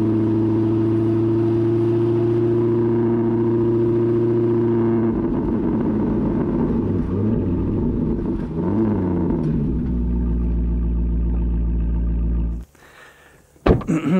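A 1980s Alfa Romeo Spider's engine idles steadily up close, changes tone midway, then is cut off near the end; no talk.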